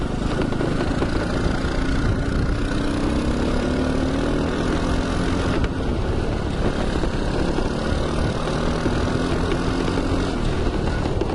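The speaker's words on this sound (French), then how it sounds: "On a le capot là, c'est lui qui fait un bruit pas possible" A kids' mini 4x4 with a swapped-in 125cc engine runs steadily over dirt, its loud, continuous engine drone mixed with the clattering of a loose hood rattling throughout, close and without pause.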